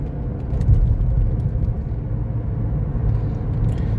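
A 1998 Mercedes SL500 gathers speed on the road, heard from inside as a smooth, steady low engine rumble with road noise and no talk over it.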